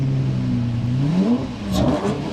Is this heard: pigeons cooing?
no